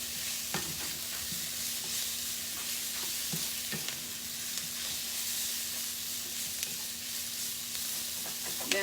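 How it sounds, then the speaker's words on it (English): Sausages fry in a pan with caramelized onions, giving a continuous loud sizzle with scattered crackles and occasional scraping stir sounds throughout, with no talking. "Now I'm gonna put in my first batch of sausage"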